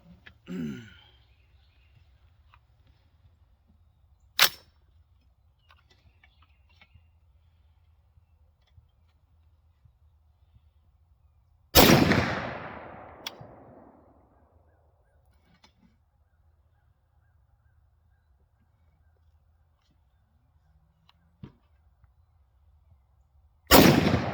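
Three sharp, loud gunshots from a BCA .350 Legend rifle ring out outdoors, spaced far apart, each with a long echoing tail, the middle shot the strongest, with a quiet background in between.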